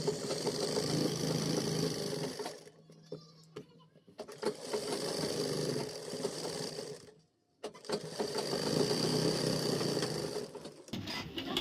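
Sewing machine stitching a topstitch seam along a pair of ladies' trousers, running in three long steady whirring bursts separated by short pauses, close and fairly loud with no talking.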